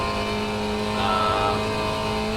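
Engine of a Spec Racer Ford at full throttle at Phillip Island in iRacing, a steady loud sustained drone with strong harmonic tones and a slight rise in pitch, no talk.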